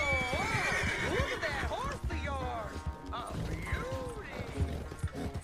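A horse gallops hard during a race in Red Dead Redemption 2, its hooves thudding in a steady rapid beat beneath loud talk and music.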